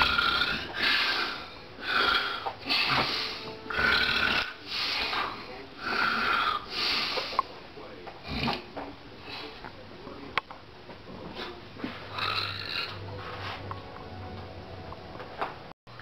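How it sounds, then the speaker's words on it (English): A man snoring loudly and close, with about eight rhythmic rasping breaths in the first half, then quieter breathing with scattered snorts and ticks. "this is my father snoring."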